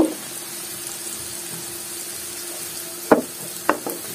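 Sliced onions with salt fry in oil in a pan, giving a soft steady sizzle under a faint hum, broken near the end by two sharp clatters of a utensil against the pan.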